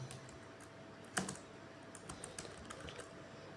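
Computer keyboard typing while entering JavaScript code, with a sharp louder keystroke near the start followed by a run of lighter, irregular clicks close up and alone.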